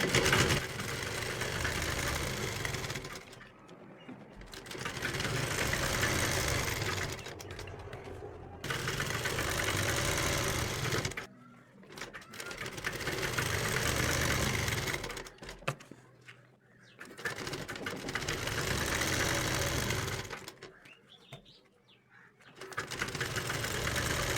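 A sewing machine stitches the centre seam of an Afghani salwar in several steady, buzzing runs of a few seconds each, separated by brief pauses, heard close with no talking.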